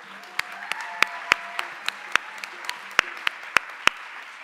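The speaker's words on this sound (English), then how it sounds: "Let's have another round of applause for our incredible team." Scattered applause at the 2017 Sullivan Renaissance Awards Ceremony, sparse individual claps at an uneven rhythm over a low room murmur, fairly close and moderately loud.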